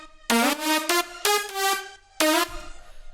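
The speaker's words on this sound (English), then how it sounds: "And then with our Sidechain Reverb, it goes like this." A music beat run through sidechained reverb: three loud sustained tonal chords cut in and drop out with gaps between, the tails pumping and ducking, followed by a quieter wash at the end.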